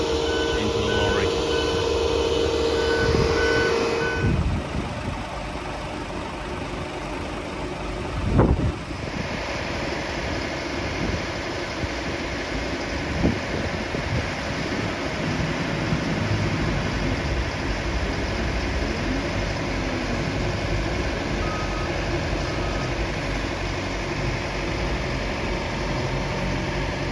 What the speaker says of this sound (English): the remote control on the loader, so it's just revving it up at the minute